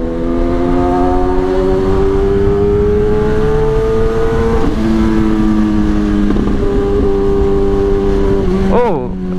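A Kawasaki ZX-10R motorcycle engine drones steadily up close, its pitch rising slowly as it rides, with a brief rev near the end.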